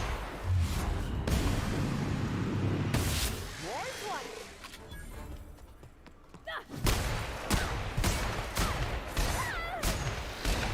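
Gunfire in the video game The Outer Worlds, with bursts of shots and thuds crowding together and broken by brief lulls while a player talks over the action.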